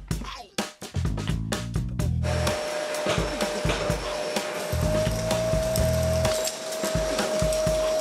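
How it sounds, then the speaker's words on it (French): A Sidamo XC 30 vacuum cleaner runs a suction test on a bucket of dust, its motor whining loud and steady after a few clattering knocks, with debris rattling through the hose. "Maintenant, un petit test d'aspiration."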